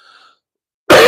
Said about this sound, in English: I'm really sorry for the cough.